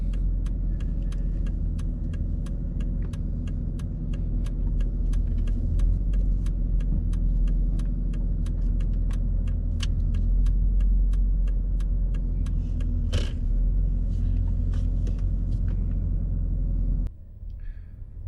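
A car driven by an eight-year-old moves along the road with a steady engine and tyre rumble and a regular clicking, probably a turn signal, before the sound cuts off abruptly near the end. No one speaks.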